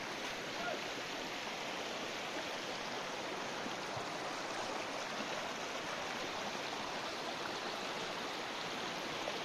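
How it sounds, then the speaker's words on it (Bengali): Stream water rushing down over rocks at Remakri in Bandarban, a steady broadband wash that holds constant and fairly loud across the whole stretch, with no talk over it. "জলধারা কি অদ্ভুত, পাথর ঘেসে ঘেসে পানি নামতেছে"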